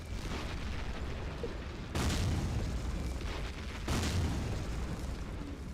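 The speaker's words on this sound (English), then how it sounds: "I don't want another wave of this artillery" Artillery explosions in the WWII strategy game Close Combat 3 in a Russian battle at Orlovka: heavy booms hit about every two seconds over a steady low battlefield rumble, loud and close.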